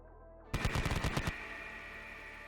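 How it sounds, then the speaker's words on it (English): A sudden burst of rapid machine gun and light autocannon fire, about a dozen close, loud shots in quick succession, then a lingering mechanical hum; a sound effect for a Konflikt '47 walker tabletop wargame battle. "taking aim with its machine guns as well as its light autocannon"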